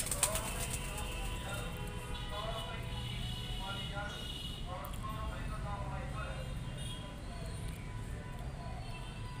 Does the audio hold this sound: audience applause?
no